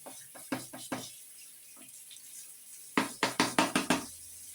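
Washed, grated potatoes tumble from a sieve into a larger strainer in a kitchen sink, making a cluster of wet knocks and splashes, then a second louder run of about six quick sloshing pours near the end, with no talk.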